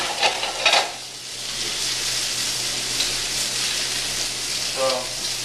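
Beef browning in a pan for a beef and Guinness pie gives a steady, soft sizzle throughout, with a couple of light clinks of a utensil near the start and a brief scrape toward the end.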